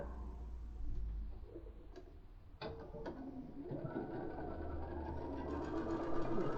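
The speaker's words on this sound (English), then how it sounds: "Let me just quickly sew that one." A sewing machine stitches fabric for a phone case, starting with soft handling clicks, then a rising, steady mechanical whir that grows louder and continuous toward the end, without speech.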